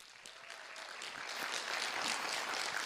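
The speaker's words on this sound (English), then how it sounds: "Let's give a big round of applause to Miss Katerina Saris" A meeting audience at a school board session gives a round of applause for a middle school debate team advisor, a soft, steady patter of many hands that swells slightly as it continues, heard from a distance.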